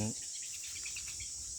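A large bee nest inside a cave gives off a steady, high, continuous insect drone. The droning holds evenly throughout at moderate distance, with no speech over it.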